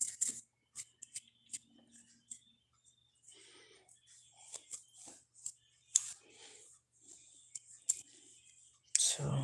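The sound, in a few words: scissors cutting crochet yarn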